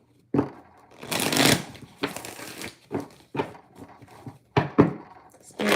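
Tarot cards are shuffled by hand in several quick bursts, crisp riffling and flapping up close with short gaps and soft thumps between handfuls.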